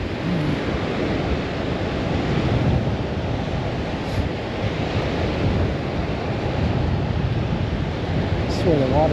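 Waves wash steadily against a Lake Superior shore on the Great Lakes, with a constant roar of surf mixed with wind buffeting the microphone. Faint chirps appear near the end.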